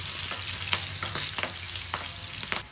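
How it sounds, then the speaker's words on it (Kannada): Green chillies frying in hot oil with spluttering mustard seeds and cumin, a steady close sizzle broken by sharp crackles and pops, no voices. "ಇವಾಗ ಮೆಣಸಿನ್ಕಾಯಿ ಹಾಕ್ಕೊಳ್ಳಿ. ಚೆನ್ನಾಗಿ ಫ್ರೈ ಮಾಡ್ಕೊಳ್ಳಿ."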